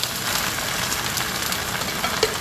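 Youmai lettuce stir-fried with miso and salt in a hot wok, giving a steady, close crackling sizzle that holds evenly for a few seconds with no talking.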